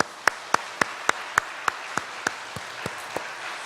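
A small church congregation claps in a slow, steady rhythm, about a dozen crisp, evenly spaced hand claps at moderate distance that fade slightly toward the end, with no talking over them.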